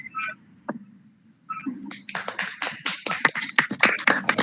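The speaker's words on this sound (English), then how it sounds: "Can we listen to a grand applause?" Sparse applause from a debate audience, starting with a few scattered claps after faint voices, then building into light, uneven clapping from a small group, fairly faint.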